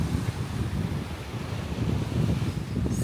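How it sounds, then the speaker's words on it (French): Strong wind buffets the microphone in a storm with rain in Japan, a steady loud low roar with gusty rumble running throughout, no talking. "il y a un vent de fou et de la pluie"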